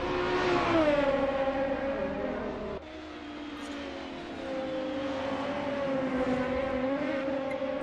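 Touring race cars lapping Brands Hatch in a sim racing game, engines droning with rising and falling pitch as two cars run side by side, a brief gear-shift dip midway, then steady revving continues close up.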